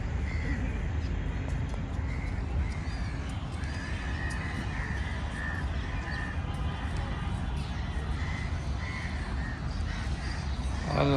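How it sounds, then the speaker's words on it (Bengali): In spring, crows and other birds call while feeding outdoors, sending out repeated harsh caws over a dense, constant wash of background noise. "বসন্তে পাখিদের কলরব অনেক বেড়ে গেছে। পাখিদের কলরব শুনতে অনেক সুমধুর লাগে।"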